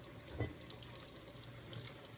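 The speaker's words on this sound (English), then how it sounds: "I'm going to run the hot water." Hot water runs steadily from a kitchen tap into the sink, a faint continuous splashing stream with no talk.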